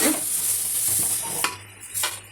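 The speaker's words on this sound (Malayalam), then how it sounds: "തക്കാളിയൊക്കെ നല്ലോണം വഴറ്റുക" Tomatoes and onions sauté in a pan with a close frying hiss, punctuated by a couple of sharp scraping stir strokes toward the end.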